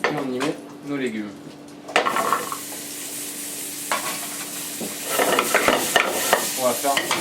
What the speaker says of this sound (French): Et on y met nos légumes.